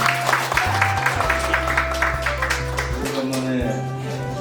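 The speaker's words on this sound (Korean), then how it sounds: "박수 한번 부탁드리겠습니다." Audience applause at an art festival in Sokcho, a brief burst of clapping from a crowd that carries on under a speaker's voice for a few seconds.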